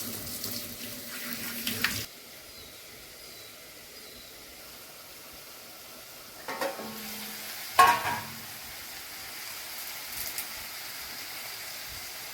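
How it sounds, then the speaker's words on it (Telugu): Curry leaves rinsed under a running kitchen tap, a brief rush of water at the start and later short splashes and clatters, fairly quiet against a low background hiss, with no talking. "కరివేపాకు కడుక్కున్నామండి"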